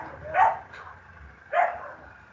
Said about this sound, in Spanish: creo que hay unos perros ahí haciendo ruido